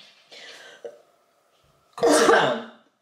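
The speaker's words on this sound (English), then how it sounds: "you're coughing up blood" A woman fakes coughing up blood as a prank, giving a short throat-clearing cough, a pause, then one harsh, loud close-up cough.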